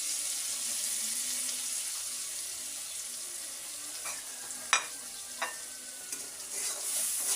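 Slit green chillies and ground spice paste with salt, turmeric, coriander and chilli powder fry in hot oil for a prawn and Malabar spinach curry, giving a steady close hiss with a few light scrapes of stirring.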